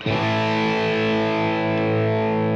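Distorted electric guitar through a Fractal Axe Fx II plexi amp model, a fat, woofy tone: one sustained chord struck hard and left ringing loudly, its rich harmonics decaying slowly.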